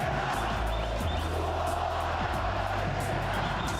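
Excited Maringá football supporters in a stadium crowd chant and roar together in a loud, continuous swell of massed voices.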